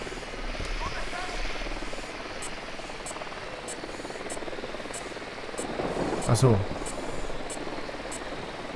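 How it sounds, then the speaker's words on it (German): Enemy helicopter in the video game Ghost Recon Wildlands, a steady rotor drone running throughout at moderate level, with a player talking briefly over it and a short louder burst near the end. "Helikopter."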